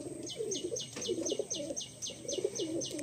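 Pigeons cooing close by, a continuous run of soft, low throaty coos overlaid with regular short, higher chirping calls repeating about every quarter second, with no talk.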